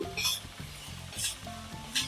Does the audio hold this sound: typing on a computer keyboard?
no